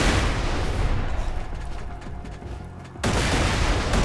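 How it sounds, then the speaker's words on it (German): A grenade blast and the gunfire around it in Borderlands 2 form a loud, dense roar that runs continuously for about three seconds, dips briefly, then surges again with fresh force. "Unsere eigene Granate hat uns gerade echt den Schild beschädigt"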